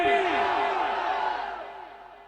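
A large crowd at a religious gathering answers the Naara-e-Takbir call with a loud, unified chanted shout that swells at once and then fades gradually over a couple of seconds.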